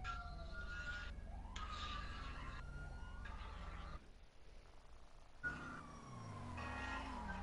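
Police sirens in a video game wail with rising and falling sweeps over a steady engine-like rumble, briefly cutting out before returning loud and close.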